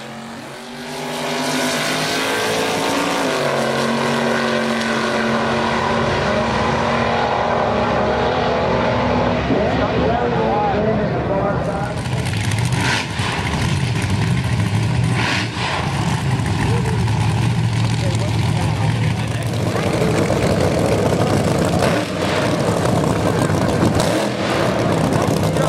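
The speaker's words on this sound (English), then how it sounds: "Up next are some of our competition eliminator cars." Competition eliminator drag race cars at the 2014 York Nostalgia Nationals at Beaver Springs, engines roaring and revving loudly, one car launching and pulling away before another pass begins, with crowd noise and voices underneath.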